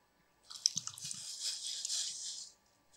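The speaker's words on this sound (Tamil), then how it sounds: "பருப்பு தக்காளி சேர்ந்த கலவை இதில் சேர்த்துக்கிறேன்." Mashed lentil and tomato mixture pours wetly into drumstick rasam, a soft close slosh and drip lasting about two seconds with no voices.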